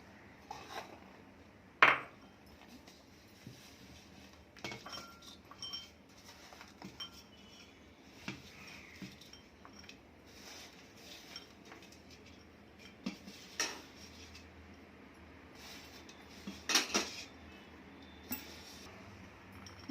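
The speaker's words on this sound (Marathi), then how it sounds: "तो गूळ आपण आता तांदळात टाकूया मिक्स करूया" Jaggery being mixed into rice in a bowl for anarse: quiet, scattered clinks and scrapes of a utensil against the bowl, irregular and soft, with a few sharper taps and no talking.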